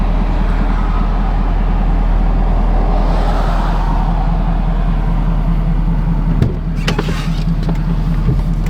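A Ford 6.7 Powerstroke diesel engine in a pickup on big tires, running as a loud, steady low rumble close by, with a few faint clicks and knocks near the end and no talking.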